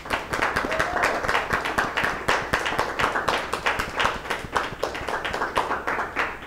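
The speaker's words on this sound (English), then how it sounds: "Let's bring them on with a round of applause." Audience at a political lecture giving a round of applause, dense rhythmic clapping from many hands, steady and moderately loud for the whole stretch with no speech over it.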